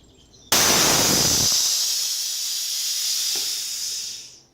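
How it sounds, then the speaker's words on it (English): A sustained, loud hiss of air escaping through the release valve of Gabriel air shocks on a Harley Road King, starting abruptly, holding steady for several seconds, then tapering off as the air runs out. "it will turn on this valve for 5 seconds, releasing all the air"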